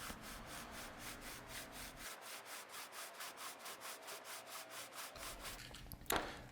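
A sanding system works the surfaces of a carbon fiber mag wheel in steady, evenly spaced abrasive strokes, a close, continuous rhythmic rasp ending with a sharper scrape.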